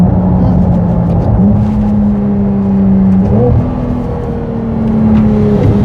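A car accelerating hard onto a motorway, its engine note climbing in steady stepped gear changes, loud and close with a constant rushing road and wind roar beneath.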